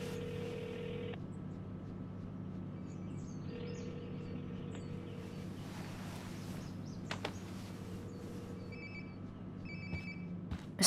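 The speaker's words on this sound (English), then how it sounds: "Sounds like my phone is definitely nearby." A phone rings nearby in the video game Life is Strange Before the Storm, repeated electronic ringtone bursts with short gaps over a quiet low hum, no talking.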